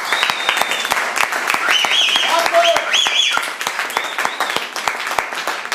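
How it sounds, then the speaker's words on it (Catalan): An audience at a live recital applauds steadily and densely for several seconds, with scattered voices and whistles over the clapping. "primer que res, un agraïment i un aplaudiment al company Ferran Dalmau."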